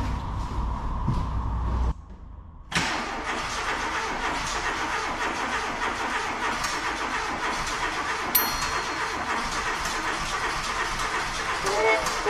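A VW Golf Mk2 engine with an unadjusted carburetor, freshly reassembled, cranks briefly, falls silent, then catches and settles into a loud, steady, slightly uneven run close by. A voice talks near the start.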